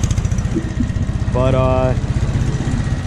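Honda-engined lawn mower idling at its lowest idle, a quiet, steady low engine hum running throughout, with someone talking briefly over it.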